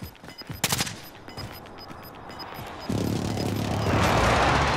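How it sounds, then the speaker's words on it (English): Video game gunfire crackles in bursts with rapid shots near the start, then a precision airstrike sets off a heavy rumbling explosion that swells and keeps roaring to the end. "Friendly precision airstrike inbound."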